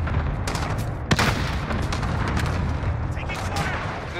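Dense rumbling booms and crackling blasts of a cluster strike fill a Modern Warfare 2019 hardcore team deathmatch, loud and continuous with a sharp hit near the start.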